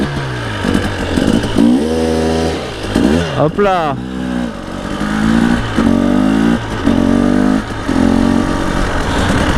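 A two-stroke motorcycle revs near the rider as he sets up a wheelie, with rising and falling engine pitch and sharp throttle blips under his spoken French commentary.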